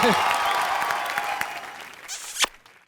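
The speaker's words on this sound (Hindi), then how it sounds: "जोरदार तालियां हो जाए भारती और करण के लिए।" Studio audience applauding on a comedy television show, a dense burst of clapping that fades gradually, with a voice briefly heard at the start and a sharp shout near the end before it drops away.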